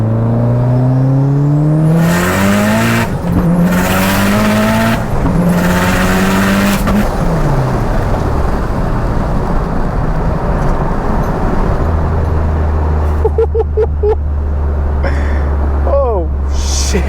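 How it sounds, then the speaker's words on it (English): A Mitsubishi Evo X with a sleeved, stroked 2.4-litre engine, BorgWarner 9174 turbo and flex fuel runs at wide open throttle on the street. Its loud engine note climbs in repeated pulls, then gives way to steady road rumble inside the car, with voices. "for street testing, we do like to do a couple of wide open throttles"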